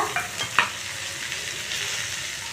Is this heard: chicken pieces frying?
yes